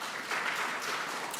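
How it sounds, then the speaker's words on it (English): An audience at a 2023 congressional hearing applauds, a dense, steady wash of many hands clapping at moderate volume, brief and unbroken, with no speech over it. "Y'all keep clapping, us politicians just keep talking."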